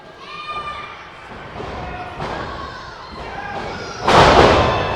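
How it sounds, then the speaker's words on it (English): A wrestler slams down onto the ring mat after a teammate is hurled into him during a tag match, a loud thud near the end following several lighter impacts, with crowd noise throughout. "Allen and his partner use Joey Rancid as a projectile to knock down Richie Rothschild"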